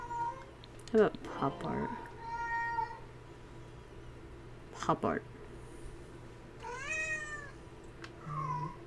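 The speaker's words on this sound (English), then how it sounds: "Okay, it just likes to meow." A pet cat in the life-simulation game Sims 4 meows several times in short, rising calls. A person talks quietly over the game sounds between the meows.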